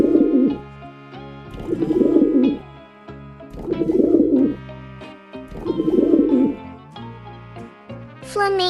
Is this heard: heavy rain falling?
no